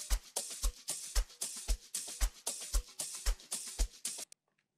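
A deep house sample-pack loop with a shaker plays alone, a steady four-on-the-floor kick with bright shaker and percussion hits over a sustained bed of sound, cutting off abruptly near the end.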